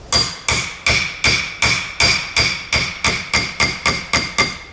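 Rapid, even hammer blows strike metal about three times per second as a Toyota Tundra carrier bearing is driven down until it bottoms out, a dozen or so sharp clanks that grow quicker and tighter toward the end.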